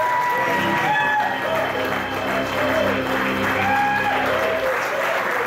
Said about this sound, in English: So please, one last round of applause for everyone.